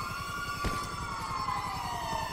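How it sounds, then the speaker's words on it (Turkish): Ambulance sirens in GTA 5, several wailing tones overlapping and sweeping steadily, fairly loud and close over a low rumbling game background, with a brief thump partway through. "Ambulanslar geliyor."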